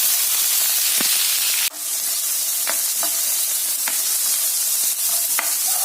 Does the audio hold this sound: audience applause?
no